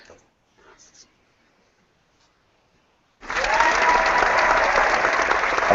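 An online hackathon audience bursts into loud, steady applause after a demo. The clapping starts abruptly after a few seconds of near-silence broken by faint murmurs, then holds dense and even to the end.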